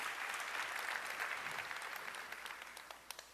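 A conference audience at an AI event in Montreal applauds warmly, a dense sustained clapping that gradually thins out into scattered individual claps.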